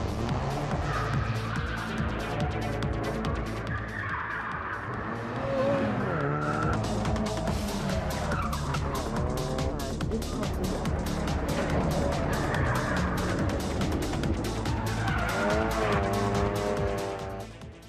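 A Ford Focus RS driven by Ken Block, pushed to the limit around obstacles, with repeated long tire squeals and skids over a revving engine that rises and falls, loud and close.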